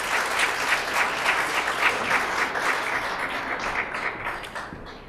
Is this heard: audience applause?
yes